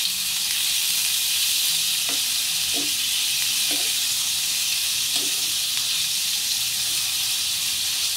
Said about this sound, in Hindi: आपको अच्छे से फ्राई कर लेना है इसे